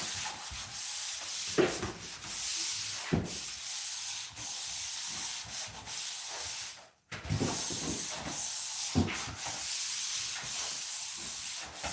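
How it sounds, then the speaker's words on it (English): Drywall joint compound is lightly sanded in repeated, close, hissing strokes, a steady rhythmic scrubbing with one short pause partway through and no speech over it. "light sand. Taking all the little rough edges off."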